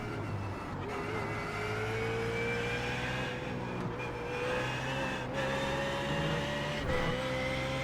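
Race car engine in iRacing, a steady sustained drone that climbs slowly in pitch as it holds high revs, with brief dips at gear changes, loud and continuous with no talk.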